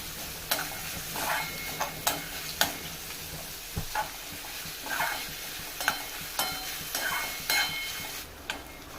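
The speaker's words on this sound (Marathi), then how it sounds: "बारीक चिरलेला कांदा घालूया कांदा सुद्धा तेलामध्ये परतून घेऊया" Finely chopped onion sautés in hot oil for Marathi-style bread patties. A soft, continuous sizzle runs under repeated rhythmic scrapes and taps of a spoon stirring the pan, with no voices.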